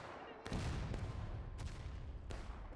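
Musket volleys in a multiplayer war game crack out in sharp, rolling bursts at roughly regular intervals, each followed by a dense echoing rumble, fairly distant and moderately loud.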